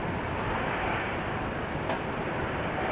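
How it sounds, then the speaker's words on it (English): An Austrian Airlines A320neo takes off from Amsterdam Schiphol on a wet runway, a broad, steady jet roar held at a constant level throughout. "taking a hike to Vienna is Austrian's A320Neo"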